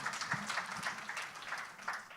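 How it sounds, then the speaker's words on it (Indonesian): A church congregation claps together during a worship service: a steady, dense patter of many hands, moderately quiet and even throughout. "Tepuk tangan lagi yang kencang buat Tuhan kita yang baik."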